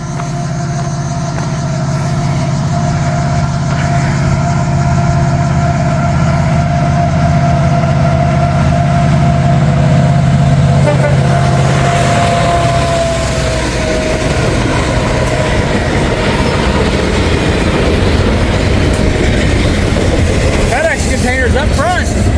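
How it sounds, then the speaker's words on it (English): Norfolk Southern (NS) train passing at Walton, Kentucky, a loud low rumble of heavy engines and rolling railcars that builds and then grows rougher and more clattering as it goes by, with no talk over it. "I got an NS train coming."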